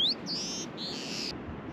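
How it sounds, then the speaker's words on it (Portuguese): Birds near their nests in Patagonia, Argentina, give several clear, high whistled calls in quick succession, rising then sustained, over a soft outdoor background with no talk. "tem um outro tipo de passarinho."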